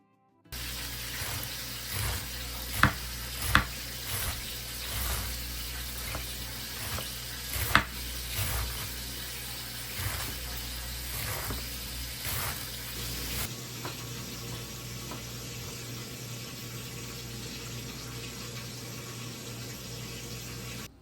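Potato pieces for chicken curry fry in a pan with a steady, loud sizzle throughout, broken by occasional sharp clinks and stirring scrapes; the sizzle drops lower and quieter partway through.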